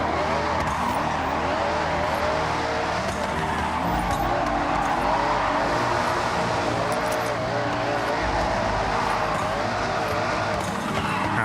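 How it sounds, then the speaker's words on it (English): A car engine in a video game revs steadily with a rising turbo whine layered over a dense, continuous mechanical roar, loud and close throughout. "Hearing that turbo wind up underneath that 2000 revs just sounds so fucking beautiful."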